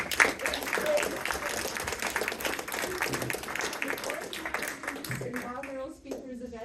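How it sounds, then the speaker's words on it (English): Audience applause for a speaker at a native plants talk, a mix of claps under ongoing voices and room murmur, moderately loud and fairly even before tapering off. "a round of applause and thank you for Sonia Colombo"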